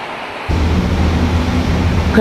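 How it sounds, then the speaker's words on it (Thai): Steady rain falls outdoors over open fields, a dense, even hiss that starts abruptly and stays loud and continuous without a break. "เพลินๆนะคะฝนตกริน"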